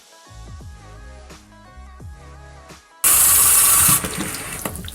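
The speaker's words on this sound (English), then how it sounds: "just turn on the water and rinse it off" Tap water switches on and gushes loudly onto a loofah back scrubber for rinsing, following a few seconds of softer ringing, splashing tones, the steady rush then easing slightly.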